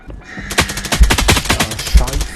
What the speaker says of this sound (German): he's shooting through the window